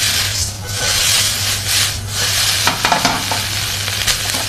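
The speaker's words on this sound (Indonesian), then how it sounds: "kita aduk atau kita masak dengan api sedang sehingga bumbu dan nasinya bisa tercampur merata." Dragon fruit fried rice is stirred and tossed in a pan over medium heat, with continuous scraping, rubbing strokes and a low sizzle, close and fairly loud with no talking.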